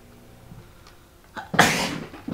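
A single sharp sneeze bursts out near the end, loud and close after a quiet lead-in.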